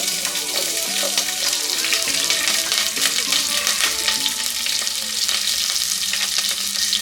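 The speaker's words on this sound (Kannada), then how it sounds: "ಇದಕ್ಕೆ ಉದ್ದುದ್ದ ಹೆಚ್ಕೊಂಡಿರುವಂಥ ಹಸಿಮೆಣಸಿನ್ಕಾಯಿನ ಹಾಕೋತಾ ಇದ್ದೀನಿ." Slit green chillies sizzle loudly in hot oil for a Rava Tomato Bath, a steady, dense crackling frying hiss with occasional stirring scrapes, close and continuous with no talking.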